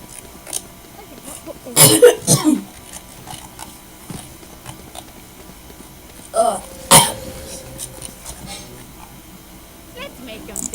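A person coughs close to the mic in two rough clusters, a few seconds apart, with some throat clearing and a little background talk and clicking in between.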